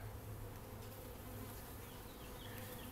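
Honeybees buzzing around an open hive during an inspection, a constant, dense swarm drone close by with faint background hum, no talking.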